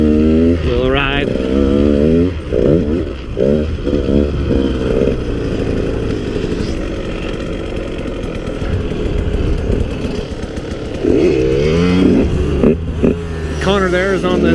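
KTM dirt bikes, including a 150 XC-W, a 65SX and a 50, revving and riding nearby, two-stroke engines buzzing and rising in pitch, loud and close throughout.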